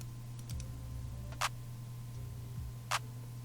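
A basic clap sample in a beat, two sharp isolated claps about a second and a half apart over a low droning bass tone and faint ticking, fairly quiet with no voices.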